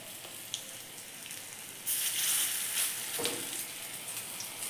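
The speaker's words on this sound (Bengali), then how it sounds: "তেল গরম হয়ে গেছে, বড়াগুলা এবারে ভেজে নিচ্ছি।" Pumpkin leaf fritters fry in hot oil at close range, a soft sizzle that jumps to a louder, hissing crackle when more batter goes in partway through.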